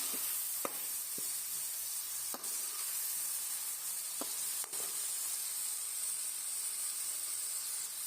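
Chicken pulao masala with tomatoes sizzles and fries steadily in a pan, a constant bright hiss with a few sharp clicks of stirring, no voices.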